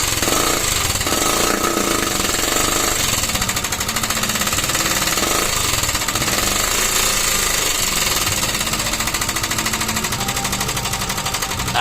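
Old Motorstar classic motorcycle engine under restoration, running loud and harsh with a dense, rapid mechanical clatter that fills the whole clip without pause.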